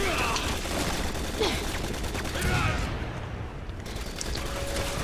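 Gunfire during a co-op street brawl in Resident Evil 6, scattered shots and bursts mixed into a busy, constant game soundscape of noise and effects.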